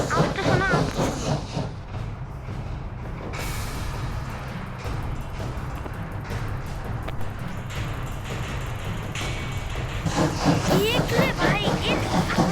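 Train running in the Forest Rails video game, a continuous rumbling rail noise with hiss and clatter, loud and steady, with a person talking over it at the start and near the end.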